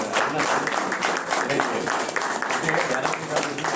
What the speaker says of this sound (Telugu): ఒకసారి మీ చప్పట్లతో ఎలక్షన్ కమిషన్కి పుట్టినరోజు శుభాకాంక్షలు జరపడం జరుగుతుంది